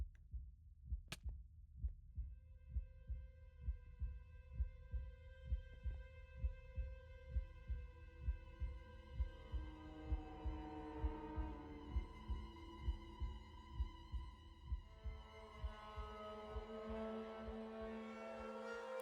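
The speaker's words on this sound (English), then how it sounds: "I hear a heartbeat." A slow, steady heartbeat thumps in a horror video game, each soft double beat repeating evenly beneath a rising eerie hum and tonal drone.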